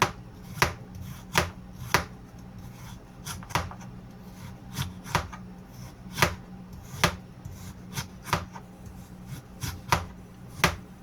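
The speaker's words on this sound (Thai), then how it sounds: "หั่นทุกอย่างมาเตรียมใส่เอาหมอต้มตุน" Sharp knife chops strike a board at an uneven pace, about two dozen crisp close-up hits with steady low background noise between them, chopping ingredients for a stew pot.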